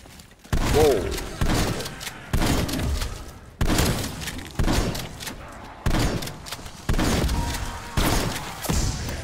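Repeated bursts of gunfire in Call of Duty Cold War Zombies on the Die Maschine map, loud thudding volleys in clusters roughly every second or two, with game effects between them.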